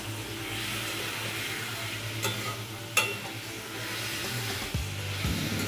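Chicken pieces fry in masala in a pan, spoon stirring through steady sizzling, with a couple of sharp utensil scrapes and knocks near the cook.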